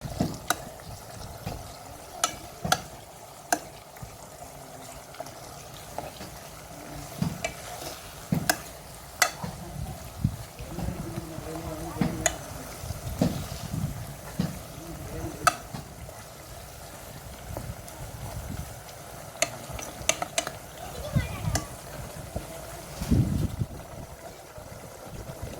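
A homemade natural hair oil heats in a pan over a medium flame, with a steady low sizzle and bubbling beneath scattered scrapes and clinks from stirring, fairly quiet and continuous throughout.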